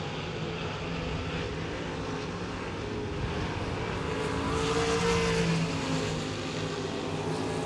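Race cars circle the 81 Speedway during a heat race, a continuous layered engine roar that swells slightly as the pack passes, heard at a distance with no nearby voices.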